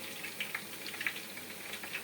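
Eggplant pieces frying in oil in a deep fryer, a quiet steady sizzle with small crackling pops scattered through it.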